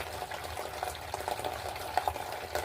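Food fries in a pan with a soft, steady sizzle and occasional stirring scrapes and pops, heard at low level and fairly close, with no talking.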